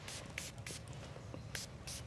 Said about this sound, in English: So I'm perfectly willing to spray it right now.